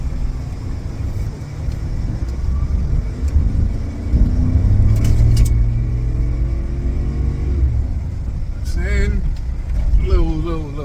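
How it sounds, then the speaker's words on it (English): A 1993 Lincoln Mark VIII V8 engine revs up from a low rumble to a louder, rising roar, heard from inside the car, with brief chirping sounds near the end. "You hear that V8."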